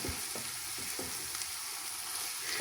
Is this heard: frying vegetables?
yes